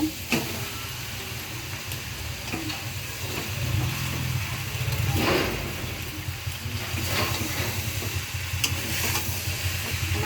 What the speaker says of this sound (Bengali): এখন এই যে পাস্তাটা দিয়ে দিব